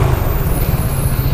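Steady low rumble of a lorry on the road heard up close from a bike travelling from Thiruvaiyaru to Chennai, a continuous loud engine and tyre drone with wind noise.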